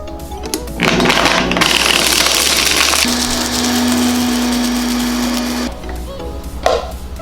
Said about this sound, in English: I am going to grind some cinnamon, clove, and sweet pepper.